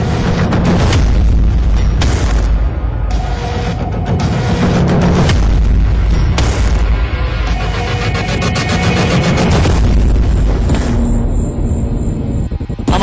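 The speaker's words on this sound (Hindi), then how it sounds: "तभी एक धमाका होता है और पूरा समंदर कांप उठता है" A ship blows up at sea, giving a series of loud, deep booming blasts and rumbles one after another, continuing without pause.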